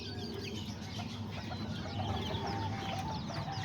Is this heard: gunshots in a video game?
no